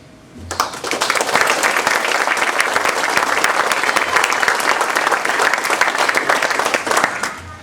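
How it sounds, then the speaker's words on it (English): A graduation crowd breaks into a loud, steady round of applause that starts abruptly and holds at full strength for several seconds without fading. "you guys definitely need a round of applause"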